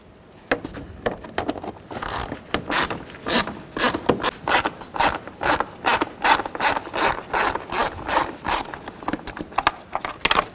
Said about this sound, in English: Take a T25 and loosen up all these screws around the airbox.